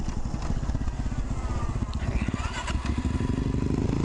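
A 2007 Suzuki DR-Z400 S motorcycle on a ride, its single-cylinder engine thumping in a steady rapid rhythm under continuous wind rush, close and loud throughout.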